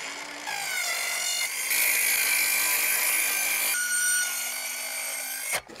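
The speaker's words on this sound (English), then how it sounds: "What am I doing cutting the galvanized sheet out?" A power tool rasps steadily through galvanized sheet metal being stripped from an old fridge, a loud continuous high grinding cut that shifts pitch a few times before stopping abruptly.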